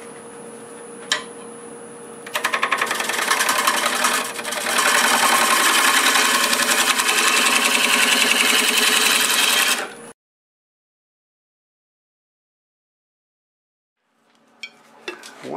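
A wood lathe spins a wet cherry plum blank at 680 RPM, giving a steady loud mechanical whir with a fine rapid rattle that builds and holds before cutting off abruptly into silence.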